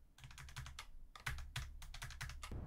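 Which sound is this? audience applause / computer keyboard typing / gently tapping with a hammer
computer keyboard typing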